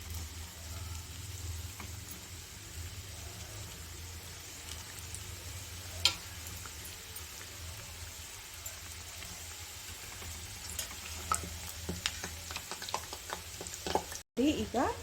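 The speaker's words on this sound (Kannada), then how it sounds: "ನಾವು ಮಾಡಿ ಇಟ್ಕೊಂಡಿರೋ ಸಮೋಸನ ಒಂದೊಂದೇ ಎಣ್ಣೆಯಲ್ಲಿ ಹಾಕ್ಕೊಳ್ತಾ ಇದ್ದೀನಿ." Mini samosas slipped one by one into hot oil on a medium flame, giving a steady, quiet bubbling sizzle throughout with occasional louder crackles and light clatter near the end.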